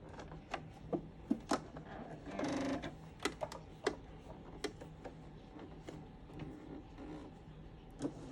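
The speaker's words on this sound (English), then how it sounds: "Now I'm sewing that at the original seam allowance, which was 5/8." A sewing machine stitching a vent seam while shortening a pair of pants: quiet, close mechanical clicks and taps with one short whirring burst of stitching, otherwise faint and sparse, with no talking.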